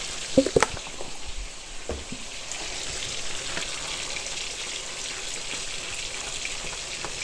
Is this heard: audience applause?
no